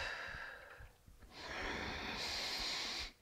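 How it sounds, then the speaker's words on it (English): A long audible exhale during a yoga session, a breathy sigh that fades and then gives way to a brighter, softer rush of breath. "Breathe, exhale."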